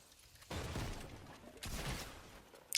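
Grenade launcher fire in Fortnite OG Chapter 1 Season 3, two heavy booming blasts about a second apart, each rumbling loudly before a sharp click at the end.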